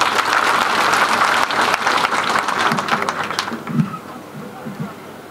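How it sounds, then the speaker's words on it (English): Dense audience applause at a memorial event for the late Professor Ngugi wa Njoroge, loud and steady for about three seconds before thinning into scattered claps and murmurs. "Let's clap for her."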